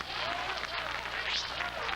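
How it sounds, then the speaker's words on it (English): Steady applause from a large crowd at a Fourth of July event, dense and continuous clapping that fills the space without a break. "Would you please give a real warm round of applause for Staff Sergeant Will Jackson"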